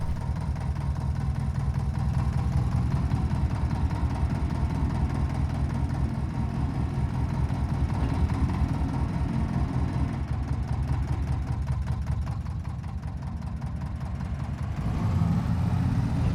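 A car engine runs steadily while the car is driven, giving a loud, continuous low drone with a slight rough pulsing and no breaks.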